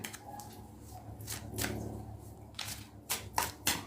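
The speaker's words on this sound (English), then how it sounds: "I'll just shuffle them" Tarot cards being shuffled by hand, soft papery riffles and slaps arriving in short irregular bursts against a quiet background.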